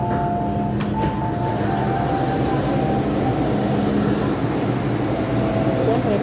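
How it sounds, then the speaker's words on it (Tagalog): An MTR train at Lohas Park station in Hong Kong hums steadily at the platform with a constant loud drone and air-conditioning hiss, a high tone sounding briefly, while people talk in the background. "MTR train dito sa Lohas Park. So, ayan guys, papasok na tayo sa train."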